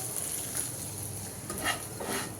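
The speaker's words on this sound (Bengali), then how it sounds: "তো ডিম ভেজে নিচ্ছি।" An egg fries in a pan with a soft, steady sizzle and light crackle, faint and close.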